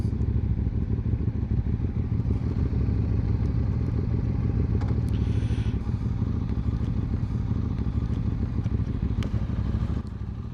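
A QJ Motor adventure motorcycle engine runs steadily while riding, a dense, continuous rumble with road and wind noise and occasional light clatter. No one speaks.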